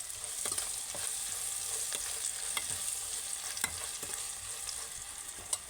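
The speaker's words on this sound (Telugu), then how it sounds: "ఉప్పు వేసుకున్నాక ఒకసారి ఇలా కలిపేసుకోండి" Okra fry being stirred with salt in a hot pan, a steady soft sizzle running throughout with scattered light scraping clicks of the spoon, fairly quiet and close, no talking.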